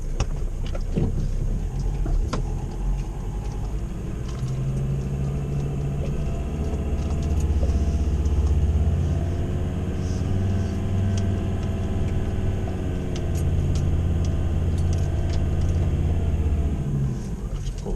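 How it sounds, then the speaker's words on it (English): A car rumbles and idles at a woodyard as it is driven and shifted out of the way, a steady low engine drone with rising and falling revs throughout. "Car up here, pulling the car out the way."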